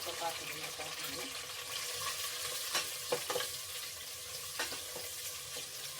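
Chopped onions fry in a tempering of oil and spices for egg biryani, giving a steady low sizzle broken by a few sharp stirring clinks against the pan.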